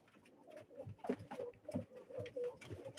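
Pigeons coo softly in repeated low, throaty phrases at a live pigeon auction, several birds overlapping nearby at a quiet level.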